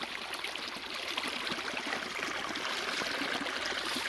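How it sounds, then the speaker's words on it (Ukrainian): Water flows out of a pond and runs off as a small brook, a constant soft rushing and trickling that stays even throughout, with no voices. "О, а з цього ставка вода тече, ще й ще й бадьоро. Дивіться як класно тече."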